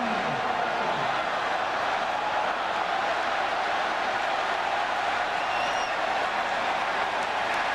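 A large football stadium crowd at Alabama hosting Georgia roars in a steady, sustained wash of cheering and applause, dense and continuous throughout with no clear pauses.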